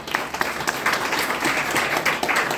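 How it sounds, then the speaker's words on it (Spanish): A church congregation bursts into applause, dense continuous clapping from many hands filling the room for a few seconds with no talking over it. "dale un aplauso al Señor"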